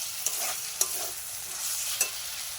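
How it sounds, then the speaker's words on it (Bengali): Spice paste (masala) sautés and is stirred in a pan, a soft continuous sizzle with a few sharp scrape clicks of the spoon, fairly quiet and with no voices. "মশলাটা ভালো করে কষিয়ে নিতে হবে।"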